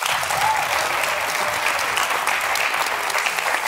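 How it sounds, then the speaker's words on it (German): Dense, steady applause from a live studio audience on a German music show, a loud continuous wash of many hands clapping together without pause or speech. "Machen Sie einen nachdenklichen Applaus"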